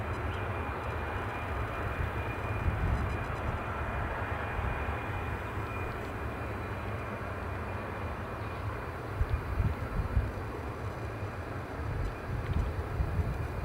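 Sustained broadband roar of airliner jet engines at Edinburgh Airport, a steady rumbling drone that holds at constant loudness throughout, with no voices.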